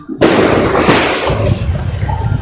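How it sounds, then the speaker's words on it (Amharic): Fireworks go off nearby with a loud, sustained crackling and booming roar that begins abruptly and continues to the end. "ርችት እየተቆሰ ነው።"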